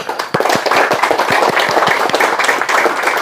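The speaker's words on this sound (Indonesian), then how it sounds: "Tepuk tangan dulu." An audience claps together at a pencak silat gathering, a quick, steady run of hand claps filling the room.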